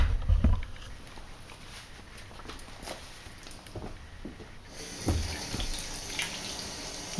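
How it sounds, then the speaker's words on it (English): A tap runs steadily into a sink while yucca leaf fibers are washed by hand, with close splashing, patting and rubbing sounds over the continuous hiss of the water. "You don't even have to use running water. Since I have it, I'll use it."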